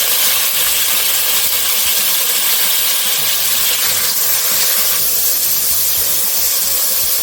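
Onion sizzling in butter in a hot pan gives a loud, steady, bright hiss with crackling pops that lasts throughout, close up and with no talking.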